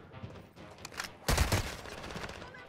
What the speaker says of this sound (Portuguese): Ó lá, Ina, tô mantendo tiro.